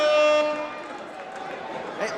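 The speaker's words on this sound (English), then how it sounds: "DJs have air horns. They play those in the club." During a pro wrestling match, wrestler DJZ blows an air horn in a short, bright blast at the start, which fades into a noisy arena backdrop.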